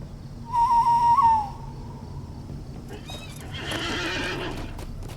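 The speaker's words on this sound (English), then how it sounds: "Let me go and get on my horse real quick." In the LOTRO online game, a horse gives one loud whinny and then its hooves clip-clop at a steady walking pace, close by, with no one talking.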